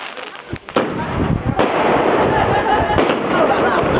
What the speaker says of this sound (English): Down, quick boom!